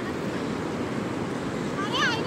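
Sea waves wash steadily at Karde beach during heavy rain, a broad continuous roar of surf and rainfall with wind rushing across the microphone and a brief higher tone near the end.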